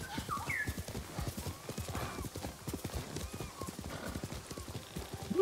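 A horse's hooves clip-clop at a steady trot in the video game Ghost of Tsushima, close and rhythmic throughout, with brief whinny-like tones mixed in.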